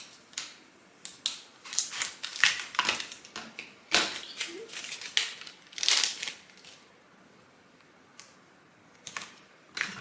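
Cricut vinyl or transfer tape is folded and rolled off its backing during a snowman ornament craft, giving a run of close crinkly peeling and crackling bursts, irregular and bunched, then sparse faint crackles.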